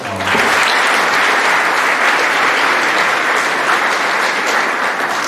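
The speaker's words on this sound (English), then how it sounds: "Another round of applause." Sustained applause from an audience at an athletic awards night, steady dense clapping filling the room for several seconds without a break.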